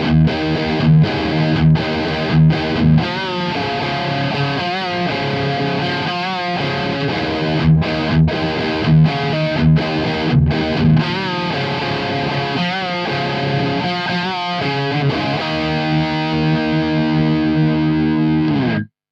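A heavily distorted electric guitar through a Mesa Mark V:25 amp plays chugging, palm-muted riffs with ringing chords in a heavy metal tone, loud and up close, with no voices.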